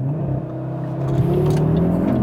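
Carbon-bodied Audi RS3 launching hard under launch control, its engine note climbing steadily in pitch as it accelerates away, loud and close for a couple of seconds.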